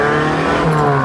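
Small 1991 Yugo GV Plus hatchback accelerating at low road speed, engine droning loud and strained with a steady rising hum, heard from inside the car without any talking.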